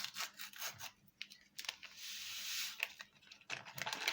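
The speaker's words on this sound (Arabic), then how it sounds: "معايا بقى هنا كيس الكريم كراميل، هفتحه كده" A plastic packet of crème caramel mix is torn and crinkled open in a kitchen, giving a few seconds of close, scratchy rustling and ripping without any talk.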